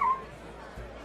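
Cat meowing at home during an online conversation, a brief high whining cry at the start, fairly close, followed by quiet room noise.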